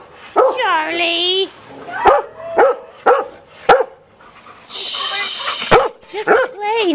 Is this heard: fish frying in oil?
no